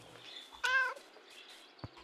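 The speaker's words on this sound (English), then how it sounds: "That was a greeting meow." A cat in the Kentucky Route Zero video game gives a single clear, close meow of greeting, followed by soft knocks and thumps against quiet background noise.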